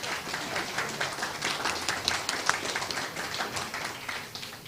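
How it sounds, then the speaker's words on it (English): Audience applause at a club meeting, a steady patter of many hands clapping through the room at moderate level, with no voices over it. "now that rousing round of applause."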